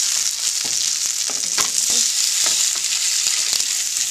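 Mahi mahi fries slowly in a pan, giving a steady bright sizzle with soft irregular pops and faint utensil ticks throughout, fairly close and unbroken by talk.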